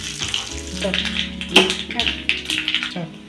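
A tempering of curry leaves and green chili pours into a Kerala-style tomato and dried shrimp coconut curry, giving a burst of sizzling and spattering in short crackling waves, close and moderately loud.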